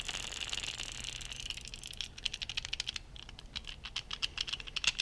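A worn steel garage door roller with a lot of play rattles and clicks irregularly up close, with quick sharp taps that grow busier partway through.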